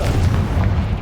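A Confringo blasting spell bursting in the video game Hogwarts Legacy, one heavy booming explosion with a deep rumbling body that fills the short moment, loud and close with no talk.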